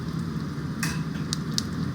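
Mustard seeds, chana dal, urad dal, peanuts and cashews fry in about two ladles of hot oil for poha, a close, steady sizzle and crackle with a few sharp pops.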